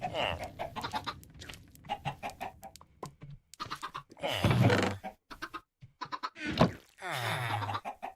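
Several chickens in a Minecraft Skyblock world cluck in short, choppy bursts and squawks, with close, fairly loud calls and some quieter gaps.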